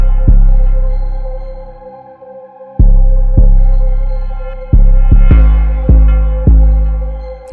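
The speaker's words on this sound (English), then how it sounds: "I use the spins 808, just follow the root notes, sound like this." Spins 808 bass following the root notes of a hip-hop beat, long deep booming notes that decay slowly, several hits in a loose rhythm under a faint melody, loud and without voices.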